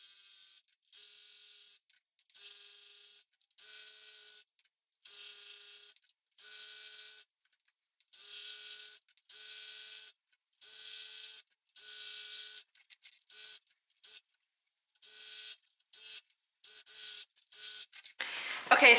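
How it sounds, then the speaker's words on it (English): An overlocker runs along skirt fabric edges in repeated short bursts of whirring stitching, each lasting about a second, separated by brief pauses, close and fairly loud with no talking. "we're gonna overlock the sides"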